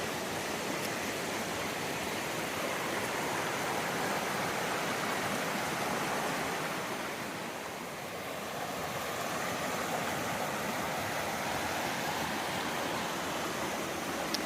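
Steady rushing water of a mountain stream, a constant broadband flow with no breaks, fairly close and loud.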